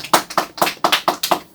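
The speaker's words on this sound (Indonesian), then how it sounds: "Tepuk tangan dulu dong." Crisp, evenly spaced claps ring out during a talk show episode on IT audit, about seven close, loud strikes in a steady rhythm with no talking.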